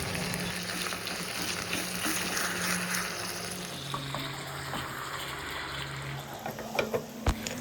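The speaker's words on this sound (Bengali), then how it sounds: "এবারে মাটনটা কোনো রকম জল ছাড়া আমি ভালো মতো তেলে ভেজে নেব।" Marinated mutton frying in oil with no water added, a continuous sizzling hiss with faint clinks and scraping near the end, close by and without talk.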